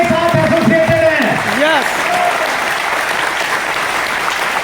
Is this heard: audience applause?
yes